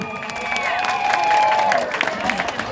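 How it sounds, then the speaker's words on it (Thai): A crowd claps and cheers for two rival long-drum troupes at a traditional drum contest at a Thai temple, a broad wash of applause with whistles and shouts cutting through, a voice calling over the noise. "ขอเสียงปรบมือให้ทั้งสองคณะครับผม"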